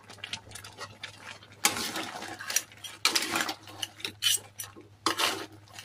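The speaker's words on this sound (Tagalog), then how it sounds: "So, mix lang natin guys para ang lasa ay mag-mix." Shrimp and crab in a pot being stirred with a utensil: irregular metallic scrapes and clinks come in several louder bursts with quieter handling between them, close by and with no talk.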